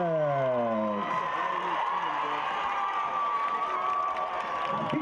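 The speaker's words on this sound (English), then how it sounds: "please give a warm round of applause to the Lake Howell Silver Regiment" A stadium crowd at a high school varsity football game applauding and cheering for a marching band, a broad steady roar of clapping and voices, with a brief announcer's voice or tone at the start.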